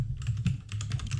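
Rapid keystrokes on a computer keyboard while entering commands in a Bash shell, a close, steady patter of several clicks with no talking.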